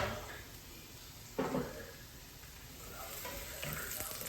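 Garlic cooking in a pan for cheesy garlic fettuccine, a steady broadband sizzle with a brief louder stir or clatter partway through, close and continuous with no talking.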